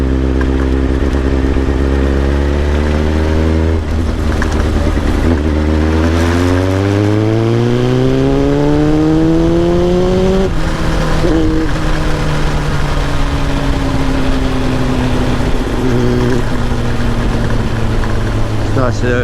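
An old Kawasaki ZX7R sportbike with an aftermarket exhaust idles and then revs up through the gears, its engine note climbing steadily before settling into a strong, close, continuous drone on an early Sunday morning ride.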